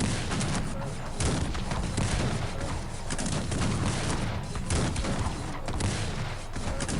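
Volleys of musket fire from Highlanders in the strategy game Cossacks 3, a dense continuous crackle of overlapping shots with dull thuds, sustained and loud throughout the battle.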